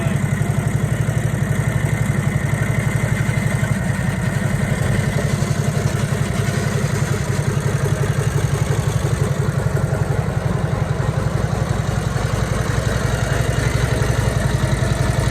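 A rebuilt 1957 Harley-Davidson Servi-Car engine idling close by, a steady loping throb with a rapid even pulse and light mechanical clatter, running alone without pause.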